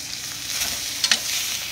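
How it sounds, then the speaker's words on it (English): Chicken thighs sizzle skin side down in a pan, giving a steady close hiss with a couple of brief sharper crackles near the middle. "you're gonna take your thighs, skin side down, and lay them around your pan"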